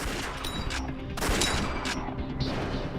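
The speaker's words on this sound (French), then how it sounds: "À chaque pression de la détente, une balle est tirée." M1 Garand rifle shots, several sharp cracks with echoing tails spaced irregularly across a few seconds, heard fairly loud without any talk.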